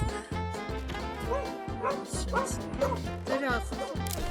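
A dog barks in repeated yips and whimpers at night near an area patrolled by dogs and a bear, several close calls mixed with other noise and voices.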